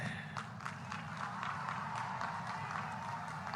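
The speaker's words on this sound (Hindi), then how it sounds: "एक बार जोरदार तालियों से इन लखपति दीदियों का सम्मान कीजिए" A crowd at a political rally in Assam claps in honour of the Lakhpati Didis, a steady spread of applause heard faint and at a distance.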